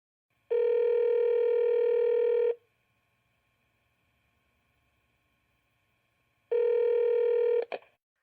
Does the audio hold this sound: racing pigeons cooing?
no